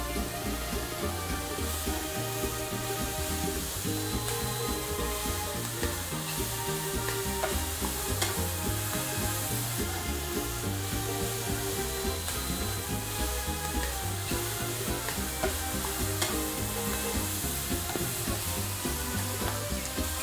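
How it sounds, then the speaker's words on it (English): Kale sautés in a hot pan with tortellini pasta ingredients, a loud continuous sizzle and crackle with stirring, close up and without talk. "And now we saute it."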